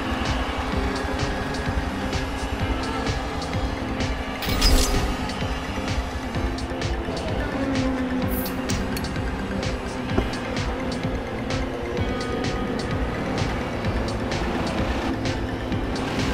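A race car laps Road America in a racing video game, its engine droning loud and steady throughout with shifting pitch and a brief louder surge partway through.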